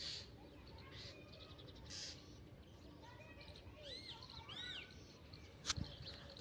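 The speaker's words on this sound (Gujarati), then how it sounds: "જો કેવો પક્ષી" A bird calls on a farm with fruit trees, giving a few short, rising chirps of moderate loudness over steady outdoor background noise.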